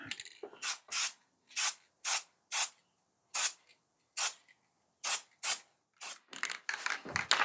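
Short bursts of aerosol spray paint hiss onto a cleaned engine block as a light coat goes on, about a dozen separate puffs in an uneven rhythm, close and clear with no talking.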